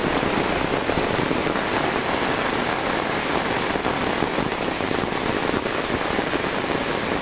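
Heavy rain pours down in Kaharol, Dinajpur, near sheltering chickens and ducks, a dense, loud, unbroken drumming that stays constant from start to finish.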